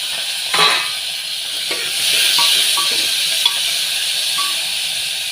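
Tomatoes, onions and curry leaves cooking in a pan for an eggplant and sweet corn curry, a soft steady sizzle with a few light utensil clinks and stirring taps, fairly quiet and without speech.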